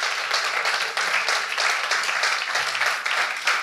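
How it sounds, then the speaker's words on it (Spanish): A church congregation at a Sunday service claps together in brisk, rhythmic bursts, loud and close, for a few seconds without talk. "Aplaude al Señor"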